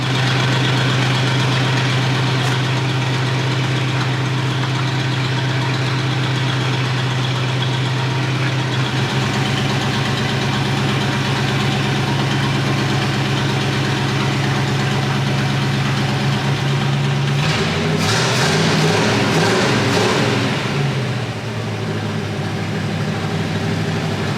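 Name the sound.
engine of 50-year-old crane truck running after new Carter fuel pump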